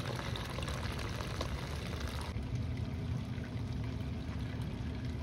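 A thin sheet of water flows steadily over a Miller table used for separating gold, a constant, close, even rushing trickle with no talk.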